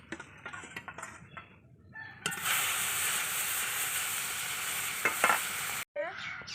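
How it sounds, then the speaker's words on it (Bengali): Tilapia fish frying in oil: light clatter first, then a loud, dense hiss of sizzling that bursts in abruptly, holds for a few seconds and cuts off sharply near the end. "এইভাবে লাল করে ভেজে নিতে হবে মাছ"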